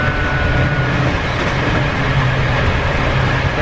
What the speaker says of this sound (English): So we're on our third train of the day.